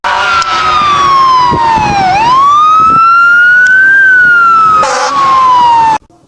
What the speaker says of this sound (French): Est-ce possible d'entendre des sirènes de camions dans le bâtiment alors qu'il n'y a personne pour les activer?